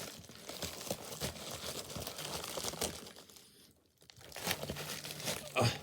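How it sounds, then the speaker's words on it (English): Wrapping on a package crinkles and tears as it is pulled open close by, in a series of sharp rustles that pause briefly before a final burst of crumpling. "let me just finish unwrapping it"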